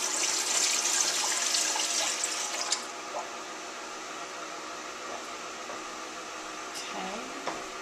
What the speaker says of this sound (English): I'm going to add some water here